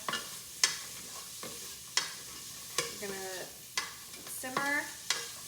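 Onions and garlic sautéing in a soup pot, a soft low sizzle under repeated sharp knocks and scrapes of a spoon stirring against the pot, with a few squeaky scraping strokes, close but quiet.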